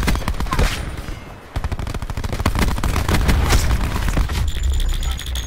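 Rapid automatic gunfire in a shooter game, loud and close, with dense overlapping shots and booms that may include a grenade blast, continuing throughout.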